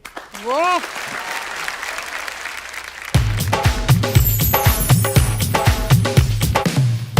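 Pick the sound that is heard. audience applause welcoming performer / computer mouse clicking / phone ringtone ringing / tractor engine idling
audience applause welcoming performer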